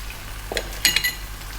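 Chopped garlic, salt, pepper and herbs are stirred in a pan, giving a soft sizzle with a few brief clinks and scrapes of the utensil, close and fairly quiet.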